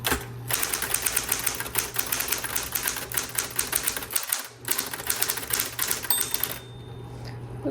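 Busy key strikes from a 1970s Electra 120 electric typewriter clatter close by over a constant motor hum, broken by a short pause and a tinkling bell toward the end before the typing stops.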